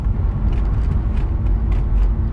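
Mazda RX8 rotary engine running while driving in second gear after sitting for years, a loud, close, steady low hum with a few light rattles and clicks on top.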